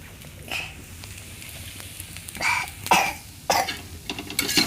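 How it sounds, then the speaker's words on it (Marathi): A woman coughs several rough, raspy times in uneven bursts, close by, growing louder and more frequent toward the end. "खोका येतो ना बाईला"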